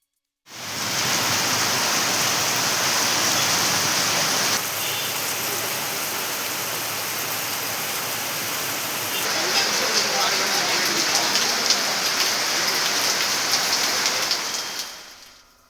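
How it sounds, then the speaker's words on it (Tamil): Steady summer rain pours heavily in Tamil Nadu, a dense, loud, continuous hiss of drops on surfaces that shifts slightly in texture partway through and then fades out at the end. "அதற்கு நேர்மாறாக மழை பெய்தது"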